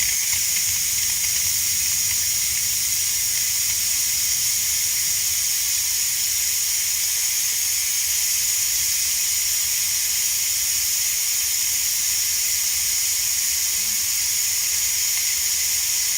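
Steam hissing steadily out of a Ninja Foodi pressure cooker during pressure release, a loud continuous bright hiss that holds constant throughout with no talking.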